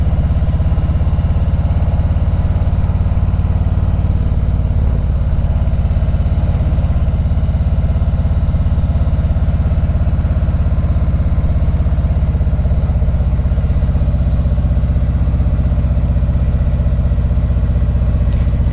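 A 2020 Harley-Davidson CVO Street Glide engine rumbles steadily while being ridden on New Jersey roads, a loud, low continuous drone with slight shifts in pitch and no talking.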